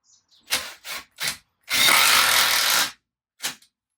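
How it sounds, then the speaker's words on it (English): A cordless impact driver runs self-drilling Tek screws into metal furring strips in a Sprinter camper van ceiling: three short loud bursts, then a sustained roughly one-second rattling whir of hammering, and a final brief burst, all up close with no talking. "is take your impact driver,"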